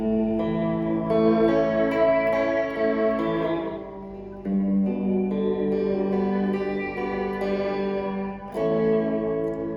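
A guitar played through a Fender Reflecting Pool pedal on its tape echo setting rings out sustained chords that repeat and trail off in smeared, reverberant echoes, with no talk.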